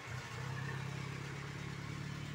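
A Peugeot 306 car engine idles steadily with a low, even hum and a faint rhythmic ticking, close by and unchanging throughout.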